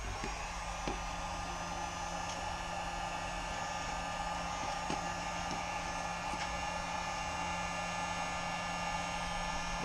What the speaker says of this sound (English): I'll use the heat gun to clear out the bottom drain hole, 4 vents, the sprue and the fill holes